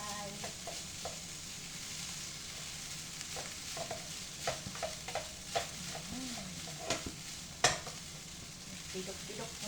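Cold leftover rice being stirred and fried in a pan on a home stove, a steady soft sizzle with scattered scraping and clinking strokes of a utensil throughout, close by and moderately quiet.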